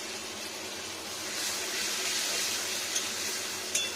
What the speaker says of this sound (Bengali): বাটিগুলো ধুয়ে, এই যে মশলার বাটি টমেটো পিউরির বাটি এগুলো ধুয়ে একটু